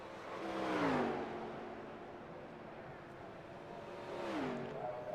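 A race car lapping a track in qualifying at the ILCS Texas 75, its engine rising to a distant whining rev, fading, then climbing again as it passes, with a commentator talking over it.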